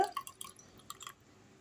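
A liquid with soaked sabja seeds is poured into a glass for a milkshake, giving a brief, quiet burst of splashy drips and dribbles that taper off within about a second.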